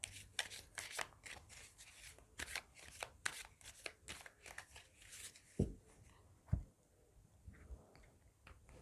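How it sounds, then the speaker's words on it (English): Tarot cards being shuffled close up, a rapid run of riffling flicks followed by a few sharper taps and slower handling. "So now here we're going to shuffle the cards for Sagittarius."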